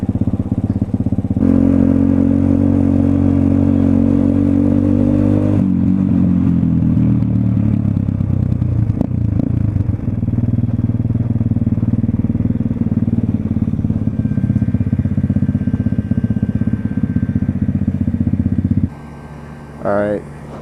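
A 125cc street motorcycle engine runs steadily while riding, a loud continuous drone with slight shifts in pitch, wind buffeting over it and a brief drop near the end.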